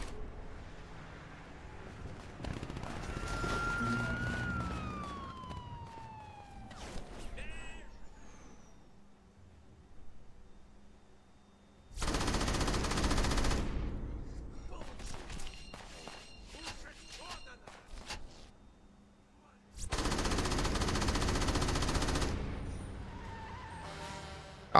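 Explosions in the video game Crackdown come as two long, loud, booming rumbles of several seconds each. Someone talks quietly between and over them.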